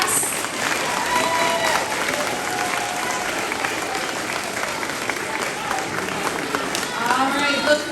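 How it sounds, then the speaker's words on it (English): An audience at a fifth-grade elementary school awards ceremony applauds a class, with steady, dense clapping and some crowd noise that lasts throughout and swells slightly near the end. "big round of applause for Miss Williger's class"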